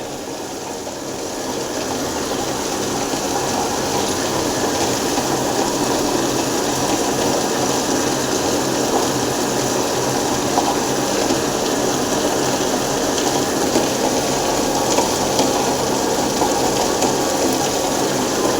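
A wet grinder churning batter runs steadily and loudly close by, a continuous wet whirring and sloshing drone with a constant motor hum that holds unchanged throughout.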